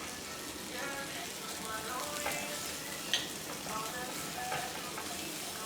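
Butter sizzling in a very hot pan with garlic, a steady broadband fry hiss with a few sharp pops and crackles, close and continuous throughout.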